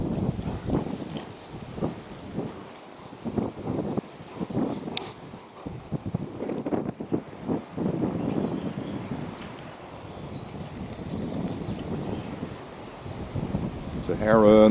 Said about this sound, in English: Was having a hard time in this gale.